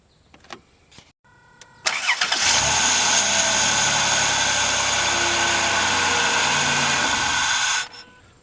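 A Dodge Grand Caravan engine catches after a couple of short clicks and a brief crank, then settles into a loud, steady idle for several seconds before cutting off.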